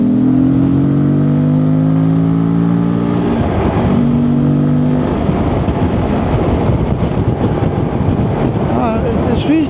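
A 1000cc Morbidelli T1002V motorcycle revs up and accelerates hard in third gear, its rising tones climbing then turning to rough roar and wind rush as speed builds.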